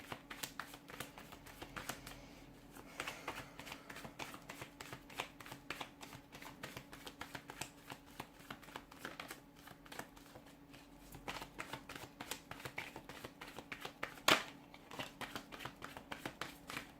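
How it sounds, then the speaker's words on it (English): Playing cards shuffled by hand during a tarot-style card reading, a steady run of soft riffling clicks and flicks lasting throughout, close and fairly quiet, with one sharper snap partway through and no talking. "See if we can get a couple more cards here."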